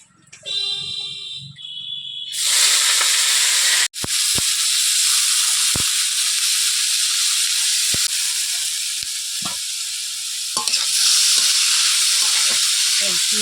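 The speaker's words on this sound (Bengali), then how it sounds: "পেঁয়াজ সঙ্গে গোটা মশলাগুলো ভেজে নিয়েছি এবার দেবো ধুয়ে রাখা চাল" Washed rice hits a pan of fried onions and whole spices such as cardamom, cinnamon, peppercorns, dried chilli and bay leaf, bursting into a loud, sustained hiss and sizzle after a quieter start, with occasional utensil clicks.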